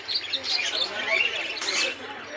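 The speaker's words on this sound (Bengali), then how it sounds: "yellow colour lovebird yellow colour lovebird" Yellow lovebirds at a bird farm chirp in quick high-pitched tweets that overlap into a busy chatter, close by, with a person talking over them.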